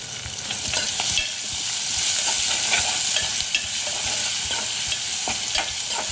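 Chunky onion pieces sauté in a hot pan with a bright, constant sizzle, punctuated by repeated scraping stirs of a spatula, up close with no voices.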